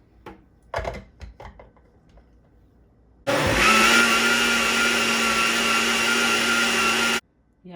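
A blender runs loud and steady for about four seconds, whipping teff injera batter close by, then stops sharply. Before it starts there are quieter kitchen knocks and handling sounds.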